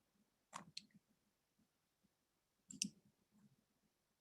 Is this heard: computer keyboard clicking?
yes